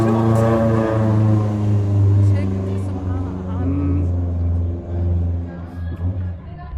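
A car engine strains up a steep street in Istanbul's Balat district. Its low, steady drone is loud and close and wavers as the engine labours, with a voice talking over it.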